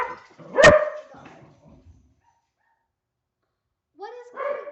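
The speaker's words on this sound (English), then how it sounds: "What is Corgi barking at?" A Corgi barks once, loud and sharp, at the door indoors, followed by a soft trailing whimper, a long silence, and then a voice that comes in at the end.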